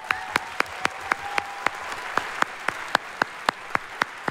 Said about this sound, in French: Un éboulement d'applaudissements.